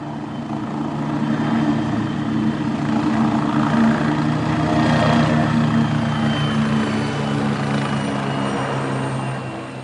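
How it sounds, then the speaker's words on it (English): A helicopter arriving on Fair Isle, Scotland: steady droning rotor and engine roar, loud and continuous for the whole stretch, swelling slightly in the middle before easing off at the end. "just come off the helicopter"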